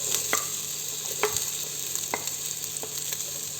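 Onion, beans and carrot fry in a hot pan for vegetable biryani, a steady sizzle with spatula scrapes and taps at irregular intervals, close and moderately loud, no talking.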